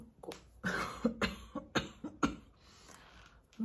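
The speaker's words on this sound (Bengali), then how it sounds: "কথা বললেই আমার কাশি উঠছে।" Several harsh coughs come in quick bursts from one nearby person suffering a blocked nose and cold, with short pauses between them and a final cough at the end.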